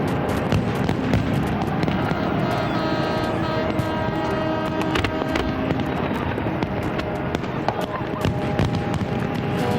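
Millennium night fireworks over the River Thames crackle and boom continuously in a dense, loud wash, with faint crowd noise and talk beneath the steady barrage.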